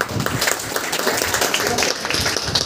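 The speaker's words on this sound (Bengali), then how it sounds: "প্রত্যেকের একটা হাততালি হোক একটা" An audience at a tuition centre gathering applauds students for their exam results, a dense, continuous round of hand clapping from a room full of people, moderately loud throughout.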